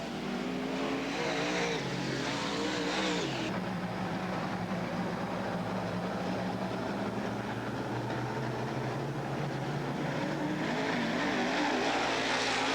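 Race cars roar around the Southern Oregon Speedway oval in a dense, continuous engine drone, pitch shifting as the pack passes and accelerates after a restart, loud and steady throughout with no talk.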